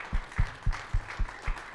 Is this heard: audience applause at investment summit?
yes